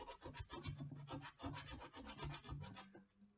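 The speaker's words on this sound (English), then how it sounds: "get it down to a smooth surface, which is what the sandpaper's doing" Close, rhythmic rasping strokes of 80-grit sandpaper rubbing over a rough surface to smooth it, steady back-and-forth scratching with no talking.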